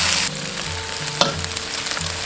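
Diced shiitake mushrooms, shallots and ginger slices stir-fried in oil with minced pork, a loud close sizzle that bursts at first, then settles under a sharp spatula scrape and steady frying.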